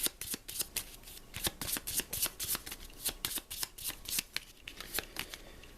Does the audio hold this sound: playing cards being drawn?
yes